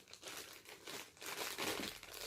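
Crinkling and crushing of plastic and cardboard packaging as a Funko box is forced open by hand, irregular bursts of crackling at close range with short pauses between them and no talking.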